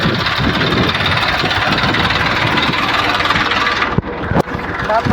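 A tractor engine idles with a steady, mid-pitched rumble and rattle nearby, while people talk over it and a couple of sharp knocks sound near the end.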